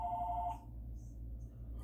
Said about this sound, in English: My phone, of course, is ringing off the hook there.